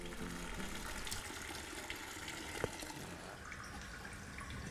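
Distillate flows steadily from a cognac still in a faint, continuous trickle, with a light click partway through and no voices.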